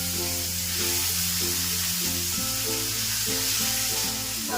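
Chopped onion sizzles in hot fish-frying oil with whole cumin seeds, a steady loud crackle filling the pan close up, with faint stirring scrapes and no voices.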